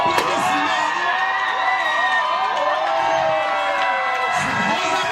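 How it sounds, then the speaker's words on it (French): A crowd at a reception for a pastor's 50th birthday cheers and whoops during a gift presentation, with shouting voices layered over a steady, loud crowd roar; speech-like calls stand out on top. "Sous vos applaudissements."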